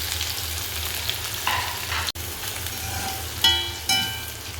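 Sliced onions sizzle and crackle in hot coconut oil in a frying pan while cooking chicken chukka, a steady close hiss with a few brief spoon-stirring scrapes and clinks near the end.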